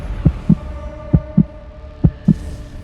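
A fast, steady heartbeat sound effect with three evenly spaced lub-dub pairs, deep and thumping, over a low hum, used to signal rising tension before a spaceflight launch.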